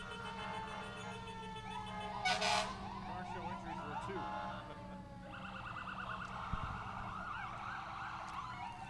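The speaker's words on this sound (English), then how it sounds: "when you hear those sirens for real" A wailing fire truck siren sweeps up and down over steady road traffic noise during a parade, loud and continuous throughout, with a brief sharp burst of noise partway through.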